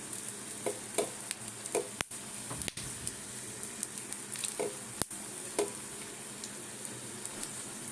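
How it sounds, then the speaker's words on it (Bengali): Faint, steady sizzling of black gram lentil fritters with sesame seeds frying in hot oil, with occasional soft clicks and taps from a utensil. "এইটাকে তেলের মধ্যে গরম তেলের মধ্যে এইভাবে ডোবাবে"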